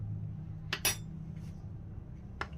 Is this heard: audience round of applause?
no